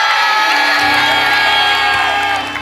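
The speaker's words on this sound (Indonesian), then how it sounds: "Tapi tepuk tangan juga dong untuk Harudang" A game-show studio audience on New Family 100 cheers and whoops for team Hareudang, a loud, dense crowd roar that holds steady throughout with no clear speech.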